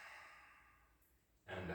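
A slow, soft inhalation during a qi gong breathing exercise, a steady airy breath that fades gradually before a louder, broader breath sound rises near the end.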